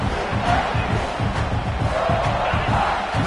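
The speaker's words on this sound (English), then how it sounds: "Crowd really making some noise now, trying to help out this defense" A large stadium crowd at a Clemson vs South Carolina football game roars steadily throughout, a dense, sustained wall of cheering and yelling that stays loud without pause.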